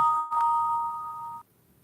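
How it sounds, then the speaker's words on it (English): An incoming call on a phone sounds as one clear electronic tone held for about a second before cutting off, alone and close. "I'm getting a phone call."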